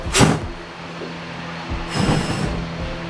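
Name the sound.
V8 engine in swapped Nissan S14 cranking slowly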